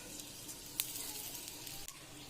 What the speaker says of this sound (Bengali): দিয়ে দিচ্ছি কড়াইয়ে জিরে